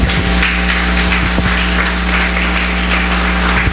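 A church congregation claps hands during a Spanish-language sermon. The clapping is dense and steady and continues for the whole stretch over a constant low hum.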